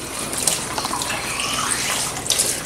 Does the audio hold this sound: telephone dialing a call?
no